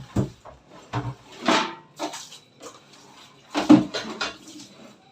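Cooking pots being handled and wiped in a home kitchen, with scattered clattering knocks and rubbing sounds in uneven bursts, close by and moderately loud.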